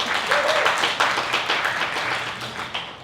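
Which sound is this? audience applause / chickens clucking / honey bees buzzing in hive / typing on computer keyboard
audience applause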